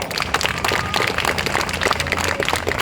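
A crowd at a street protest gathering in Kolkata claps together in a burst of applause, a dense patter of hand claps that carries on steadily for a few seconds.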